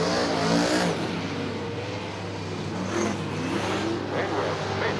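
Super sedan race cars at Charlton Raceway in a 2001 night Grand Prix, engines roaring steadily close by, with a commentator talking over the continuous motor noise.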